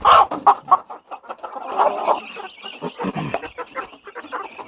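Chickens cluck in a busy, uneven chatter near a KUB2 rooster, with a few loud close calls at first and then a steady stream of softer clucks and squawks.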